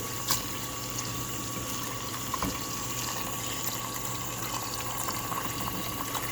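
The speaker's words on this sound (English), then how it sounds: "So I'm gonna fill it in lots of water." Water running steadily into a cooking pot to make broth for Cebu lechon, a continuous even rush with a few small clanks, close by and with no talking.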